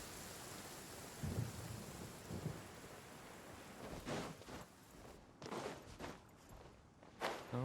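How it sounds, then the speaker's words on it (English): Thunder rumbling during a rainstorm in the video game Genshin Impact, low rolling booms over steady rain, with footsteps and rustling movement nearby. "When you hear thunder, it's best practice to stay away from tall trees."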